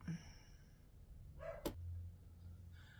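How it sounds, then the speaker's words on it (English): Faint household dogs bark a few times, short sharp yips near the start and middle, against a quiet indoor background with a low hum. "My dogs will probably start barking."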